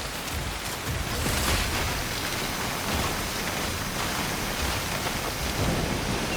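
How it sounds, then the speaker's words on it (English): Heavy rain pours steadily during a storm in the video game SYNDUALITY Echo of Ada, with low rumbling thunder rolling underneath a constant wash of falling water. "Find cover from the rain on the double."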